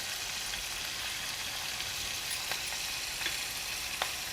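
Shrimp roasts in a hot pan with a steady, close, even sizzle and a few soft ticks and pops, and no talk.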